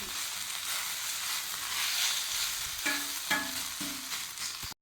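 Chicken for shawarma frying in a pan, a steady hiss of sizzling broken by a few clattering knocks of a utensil stirring against the metal near the end.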